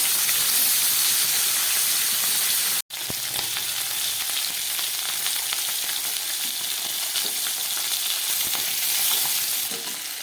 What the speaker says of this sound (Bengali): মাছগুলো ভাজা হয়ে গেছে, আমি তুলে নিচ্ছি।